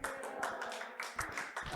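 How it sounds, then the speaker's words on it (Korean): A small group in a lecture room claps in a short burst of irregular, sharp hand claps, close and moderately loud, lasting under two seconds. "박수 치니까 사람이 기분이 되게 좋아진다"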